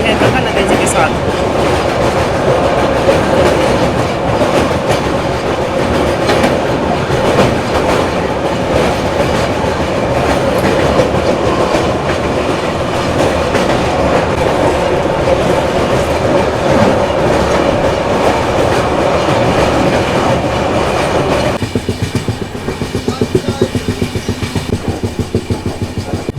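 Loud steady rumble and clatter of an express train running through Mansi Junction, heard from inside a 2AC coach, with wheels clacking on the track throughout and a change in the sound near the end.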